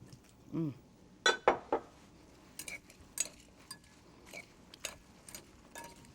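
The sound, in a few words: tossing salad with oil and vinegar in bowl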